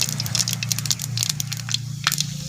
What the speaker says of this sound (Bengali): এবার ফোড়ন দিয়ে দিলাম